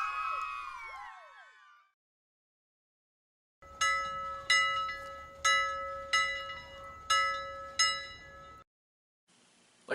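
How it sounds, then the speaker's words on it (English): Wall clock chime sound effect, six evenly spaced bright bell strikes ringing out one after another, clear and loud, following a burst of whooping voices and a short silence. "Like a clock on a wall said ding ding dong"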